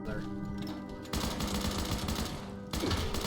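Gunfire in the video game Fallout 76 comes in bursts, with a few rapid volleys of shots under continuous game sound and faint background noise.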